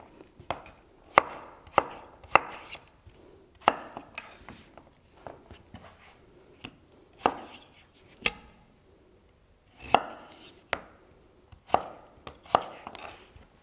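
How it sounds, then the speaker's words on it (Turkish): A knife cuts potatoes on a cutting board in sharp, irregular chops, some in quick pairs and others with longer pauses between, close and clear in a quiet room. "Patatesi kesme işlemimiz de tamam."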